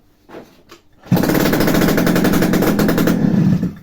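A Honda Lead scooter engine, just fitted with a known-good ignition switch during repair, catches after a couple of short attempts and settles into a loud, rapid, rattling idle close by.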